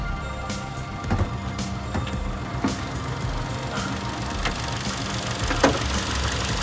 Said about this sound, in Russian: сейчас двигатель полностью готов, в идеальном состоянии, без единого звука